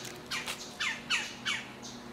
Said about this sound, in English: There's a bird up there that's not too happy with me.